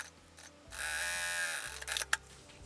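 A sewing machine stitches a seam along a fabric edge, with one close mechanical whirring run of about a second and a brief clack at the end, in a quiet room with no talking.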